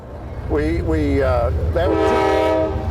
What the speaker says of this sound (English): that's the CSX train. It's about to the crossing.